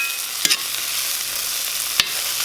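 Garlic sizzles steadily in a hot frying pan with a bright, continuous hiss, punctuated by two quick scraping clatters as it is stirred.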